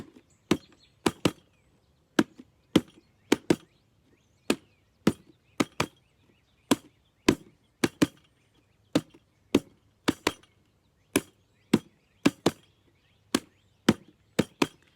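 Crisp, dry hand strikes on a drum tap out a repeating syllable-like pattern, close and clear against near silence.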